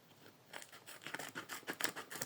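A small packet being unpacked: quick crinkling, tearing rustles in bursts that start after a quiet moment and grow busier, close and fairly soft, with no talking.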